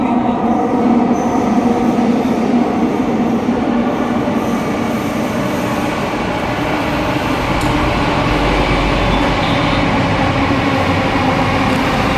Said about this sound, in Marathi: अशी आपली ही मेट्रो आता येत आहे लाईट तर दिसते आता येते आहे